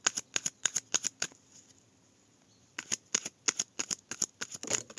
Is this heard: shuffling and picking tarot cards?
yes